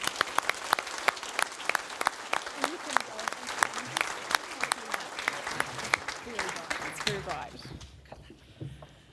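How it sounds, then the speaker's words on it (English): An audience at a 2022 Southland, New Zealand sports awards ceremony claps loudly and continuously, sharp crisp hand claps that thin out and fade at the end. "Give them a round of applause, folks."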